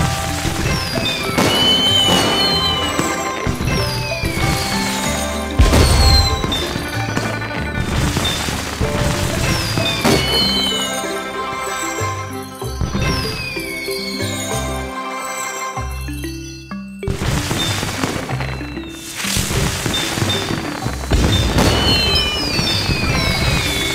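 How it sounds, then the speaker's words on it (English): Cartoon fireworks for a Chinese New Year celebration burst in rapid succession, with sharp bangs, crackles and glittering tinkling overlapping across a loud, busy stretch with a brief lull near the middle. "Wow! The fireworks are so beautiful!"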